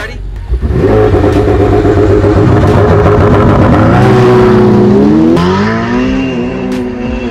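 A McLaren 720S and Ferrari 488 Pista and F8 Tributo sports cars roar through a drag race, loud engines rising and shifting in pitch as they accelerate, with voices talking over the noise.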